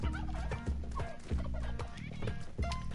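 Turkeys gobble in Spelunky 2 over a dense, loud bed of game music, with repeated short bursts standing out through the mix.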